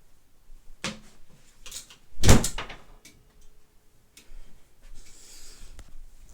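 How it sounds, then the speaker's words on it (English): A door swings shut indoors with one sharp, fairly loud knock near the middle, set against quiet room tone and a few faint handling clicks. "while I close the door"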